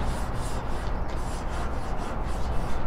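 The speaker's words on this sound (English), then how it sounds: "While you're doing that, scrape off your grill. Get all those food pieces off." A scraper rasps steadily across a hot grill grate to clear off leftover food bits after cooking filet mignon, a continuous gritty rubbing with rhythmic strokes, fairly close and alone with no talking.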